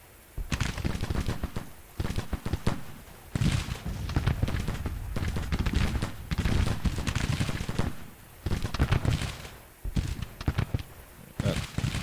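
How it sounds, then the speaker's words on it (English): Troops exchanging musket fire in the Civil War strategy game Grand Tactician: repeated crackling volleys and rolling gunfire bursts in close succession with brief lulls between, steady and fairly loud throughout. "they're firing against the 1st Brigade here"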